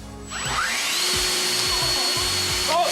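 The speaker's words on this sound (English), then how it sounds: "Or this fan." An electric fan switches on to a loud, steady rushing whir close by, running continuously with a rising motor whine at the start.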